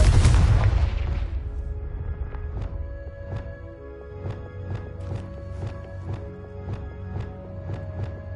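A Confringo blasting spell explodes in the Hogwarts Legacy video game: a loud, full-spectrum boom up front that decays over about a second, followed by a string of sharp crackling impacts over a sustained tonal game soundtrack.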